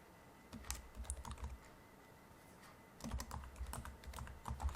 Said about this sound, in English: we need to type a comma